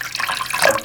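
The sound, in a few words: water pouring into a pot for chicken soup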